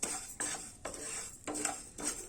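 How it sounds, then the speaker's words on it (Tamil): Parboiled rice roasting in a dry pan, stirred with a metal spoon in quiet, rhythmic scraping strokes about every half second, close and alone. "நல்லா புழுங்கரிசிய ஒரு பொன்னிறமா வறுத்துக்கங்க"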